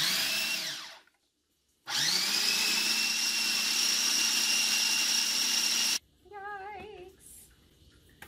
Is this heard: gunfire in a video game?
no